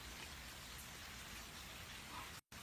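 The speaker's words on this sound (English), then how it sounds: "Did you play in the rain?" Rain falls in a steady, dense hiss with no voices, broken briefly by a short dropout near the end.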